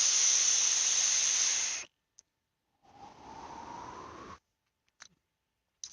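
Two drawn hisses of air pulled through an RDA dripper with wide open airflow, the first loud and bright, the second softer with a slight rising whistle, followed by a few faint clicks.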